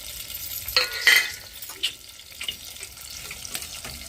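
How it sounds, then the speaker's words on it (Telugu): Ginger garlic paste fries in a pan with a soft background sizzle. Several sharp scraping and stirring clatters are heard near the start and more sporadic ones follow, with no voices. "అల్లం తెల్లగడ్డ పేస్ట్ వేస్తా. నువ్వైతే మంచిగా వేగనిద్దాము."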